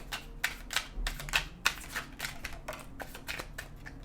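Oracle cards being handled and drawn from a deck, a run of crisp quick riffling and flicking bursts in irregular rhythm, close and clear with no talking.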